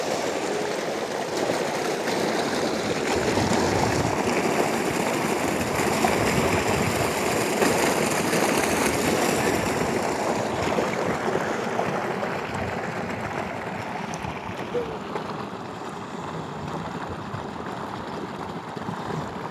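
Fast-flowing natural spring water gushes out of a mountainside in Balochistan, a steady, dense rushing wash that stays loud and unbroken throughout, with no talking.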